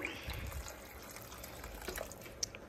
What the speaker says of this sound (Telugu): కొంచెం హాట్ వాటర్ పోస్తున్నారు